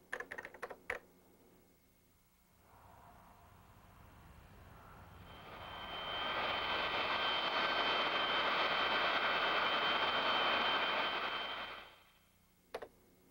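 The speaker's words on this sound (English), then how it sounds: "we've used a split edit to advance the sound of the airplane over the previous shot" Airplane flying overhead, a faint hum that swells into a loud broad engine roar for several seconds and then fades away, framed by a few sharp clicks at the start and end.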